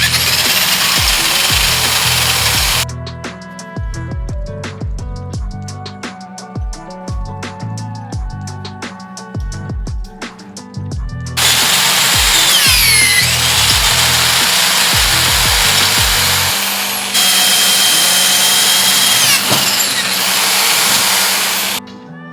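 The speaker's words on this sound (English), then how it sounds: "when I'm drilling into the other 4 sides" A power drill bores into a trailer roof rack during an overland trailer build, giving loud, close bursts of whirring and rattling that stop and start repeatedly, with sustained runs of harsher grinding drilling in between.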